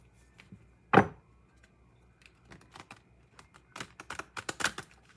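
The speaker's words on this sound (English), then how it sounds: "we're going to do 3 shuffles" Advice cards being shuffled by hand: one sharp riffle early on, then scattered soft taps and a quick cluster of crisp card clicks near the end, close and quiet.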